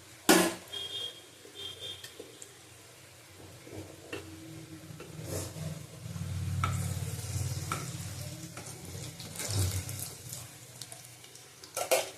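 Green banana kofta balls fry in a pan of oil, giving a steady sizzle that swells louder midway, with occasional stirring clinks and scrapes, close up and with no talk.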